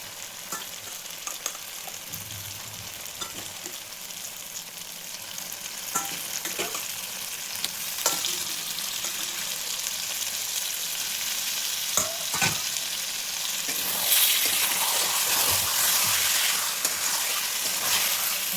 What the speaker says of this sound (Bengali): মশলাটা কষে গেছে, এখন মাটনগুলো দিয়ে দেবো, নালি পিস